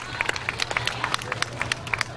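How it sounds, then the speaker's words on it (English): Crowd applause for a two-year-old girl's hula dance at a county fair performance, a steady patter of many hands clapping at moderate distance with scattered sharper claps over a low background hum. "give her a round of applause"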